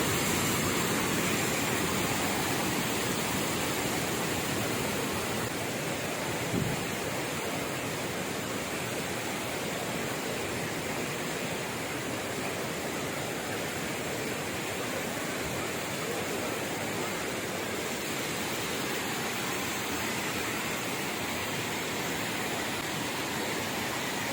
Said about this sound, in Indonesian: Para pengunjung menyenangi deru air terjun.